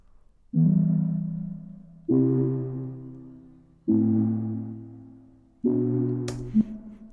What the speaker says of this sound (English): Now, the sound that I'm using here is just this Sky Keys even bubble.